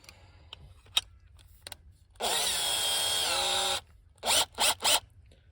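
Makita DHP458 cordless drill boring into a wooden post, one sustained loud whir lasting about a second and a half, then three short bursts, with quiet handling knocks before it.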